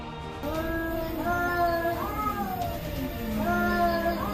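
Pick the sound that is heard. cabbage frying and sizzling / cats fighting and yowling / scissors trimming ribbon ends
cats fighting and yowling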